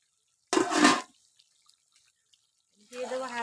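Water splashes as it is poured into a pot of braised meat and potatoes, a brief close gush followed by quiet, then a voice talking.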